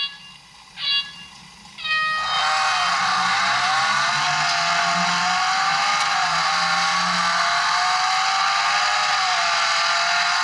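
Real Racing game audio playing from a smartphone, with brief tones before a synthetic car engine revs up into a loud, sustained, slightly wavering racing drone.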